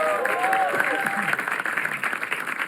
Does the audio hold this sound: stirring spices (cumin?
no